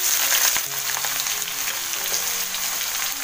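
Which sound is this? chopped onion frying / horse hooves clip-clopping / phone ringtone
chopped onion frying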